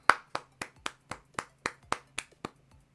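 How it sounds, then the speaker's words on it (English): A single person claps about ten times at a steady, even pace, each sharp clap ringing briefly in a quiet room. "Let's give him a round of applause."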